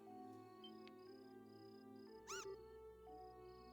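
In the video game Trails in the Sky FC, a cat gives a single short, bright meow over a quiet background of sustained synth game music.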